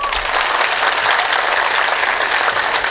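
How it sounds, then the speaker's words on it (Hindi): A crowd at a speech in Balapur, Maharashtra, applauds steadily, a dense wash of many hands clapping without pause. "उनके लिए सब तालियां बजाएं"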